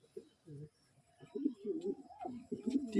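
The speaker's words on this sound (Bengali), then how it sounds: "আর এই ঘরটা দেখুন বন্ধুরা পুরো ফাঁকা তো পায়রাগুলোকে খাওয়া দেওয়ার আগে ক্যাপাচিনোটাকে একবার আপনাদের দেখিয়ে দিই" Soft, throaty pigeon coos repeat in short bursts, fairly close, in a pigeon loft, with faint background noise between them.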